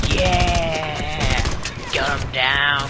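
Rapid automatic gunfire bursts from the video game Red Faction: Guerrilla, loud and continuous over game sounds, with a brief lull before the shooting resumes.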